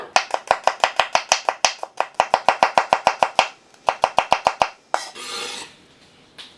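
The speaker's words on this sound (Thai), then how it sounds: "หอมแดงนี่ก็ หั่นซอยให้ละเอียดเลยครับเป็นแผ่นบางๆเลยนะ" Rapid, even knife strokes thinly slicing shallots, tapping on a cutting board in quick bursts with short pauses, close and crisp, ending in a brief scraping sweep.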